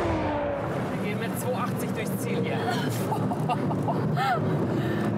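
A heavily tuned car accelerates hard at very high speed, its engine roaring and climbing through the gears over rushing wind and road noise, with an excited voice talking over it.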